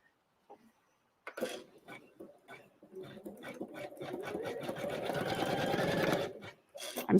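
An embroidery machine sewing a blanket stitch around a Christmas card design, starting with a few taps and then running as a steady, fast mechanical whir that builds and holds before stopping abruptly.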